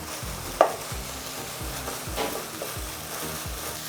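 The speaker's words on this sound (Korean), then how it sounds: "고기가 기름에 튀겨지는 거라고 생각하시면 돼요." Pork stir-frying in oil with minced garlic in a pan, a steady close sizzle with repeated scraping stirs and one sharper clatter, no voices.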